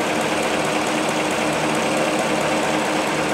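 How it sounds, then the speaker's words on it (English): A vehicle engine running with a 12-volt inverter cabled straight to its battery, a loud, continuous, even mechanical drone with a fast buzzing pulse that holds steady throughout. "Engine is running."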